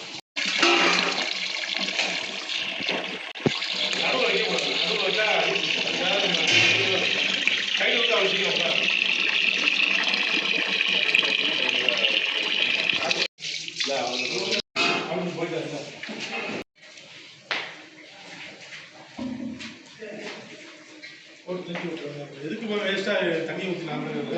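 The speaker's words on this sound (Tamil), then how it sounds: "இப்போ வந்து 2வது கேன் தண்ணி ஊற்றுறோம்." Water from a can pours steadily into a cooking pot for mutton biryani for a long stretch, a broad rushing splash that continues under a talking voice, with a few brief breaks near the end.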